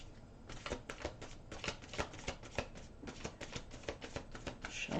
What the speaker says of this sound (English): Shuffle these cards up a few times.